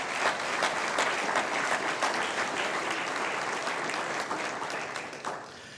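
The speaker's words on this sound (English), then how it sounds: "how about one more round of applause for all of our sponsors that made tonight possible?" An audience at a small business awards evening applauds its sponsors, dense steady clapping from a full room that holds strong and tapers slightly at the end, with no talk over it.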